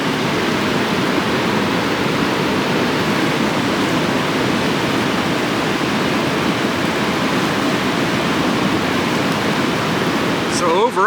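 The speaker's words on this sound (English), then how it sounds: "the Colorado River." The Colorado River rushes through the Grand Canyon at Diamond Creek with a loud, steady roar of churning water, close and unbroken throughout.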